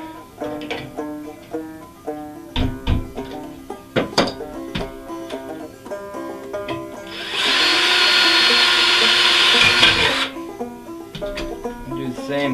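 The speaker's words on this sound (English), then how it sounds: "The drill bit likes to run off." Handling clatter and taps on a metal syrup can lead into a single sustained, loud power drill whine lasting a few seconds as a hole is bored for a banjo build, then clattering resumes.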